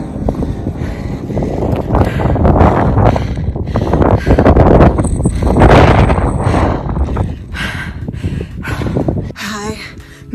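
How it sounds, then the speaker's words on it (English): Strong gusty wind on the summit of Mount St. Helens buffets the microphone, roaring and rumbling in surges through most of the clip, with a few brief clicks near the end. "But it's getting windy up here."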